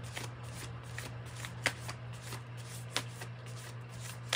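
Tarot cards being shuffled by hand during a reading, a steady soft riffling with a few sharper snaps of cards, close and moderately quiet over a low constant hum.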